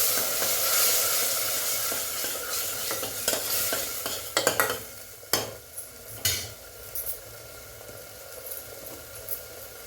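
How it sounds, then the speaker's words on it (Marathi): Spices and a splash of water sizzle in a pan for cowpea curry, with a soft hiss underneath and a run of sharp scraping and clinking stirs from a spoon against the pan. "मसाले चांगले एखादा मिनटं परतून घ्यायचं आहे"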